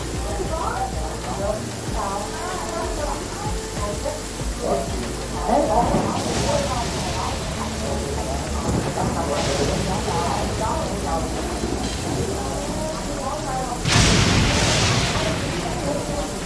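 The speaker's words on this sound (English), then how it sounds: "It's raining." Steady rain falls in Genshin Impact's Liyue region, a dense, even hiss of drops with sizzling patter that runs unbroken throughout, under background music and character voices, with brief louder rushes near the middle and end.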